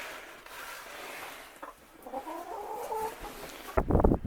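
Backyard hens clucking inside a damp henhouse during spring cleaning, a blue-egg layer among them; soft scattered clucks and rustling build up, ending with a louder burst of close fowl calls.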